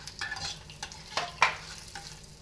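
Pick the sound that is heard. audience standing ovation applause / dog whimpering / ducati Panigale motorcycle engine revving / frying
frying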